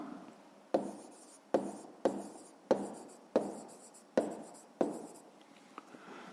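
Ballpoint or pen strokes on paper while working a fifth-grade geometry exercise, seven sharp scratching bursts at a steady rhythm, each fading quickly, close and fairly quiet with no talking.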